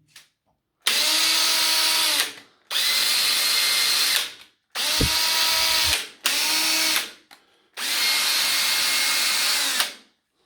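A Dewalt DCD985 cordless drill running in hammer mode, five loud close bursts of whining, rattling motor noise separated by short pauses, with no voices.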